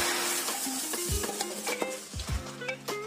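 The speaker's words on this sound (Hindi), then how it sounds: "बीच बीच में इसे हम चलाते रहेंगे ताकि नीचे लग नहीं पाए" Goat head curry frying and being stirred in a pot, with close metallic spoon scrapes and knocks against the pot over a steady sizzle, repeated through the stretch.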